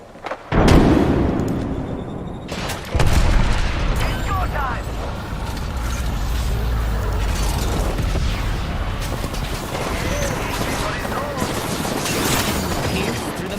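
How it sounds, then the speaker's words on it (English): A frag grenade detonates in a video game, a loud booming burst near the start followed by a second blast, then a sustained roar of gunfire and mechanical game noise under occasional talk. "Throwing a frag in there."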